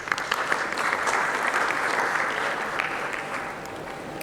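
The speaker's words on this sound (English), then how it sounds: "A round of applause, please." Applause from an audience at a leadership talk, steady dense clapping sustained throughout at moderate volume without any speech.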